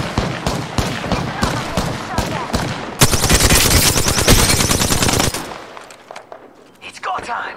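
Rapid automatic gunfire from the video game Apex Legends crackles in dense bursts, swelling into a loud sustained volley before cutting off abruptly, leaving quieter game ambience.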